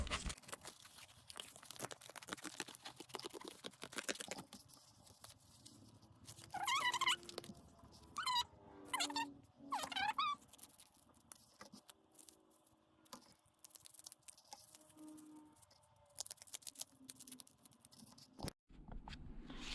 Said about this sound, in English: these are not the best scissors to cut cardboard